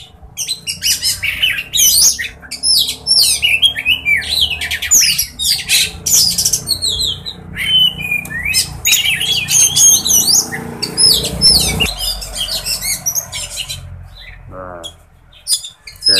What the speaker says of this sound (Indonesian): Nah ini masih suara kacer, masih suara keplong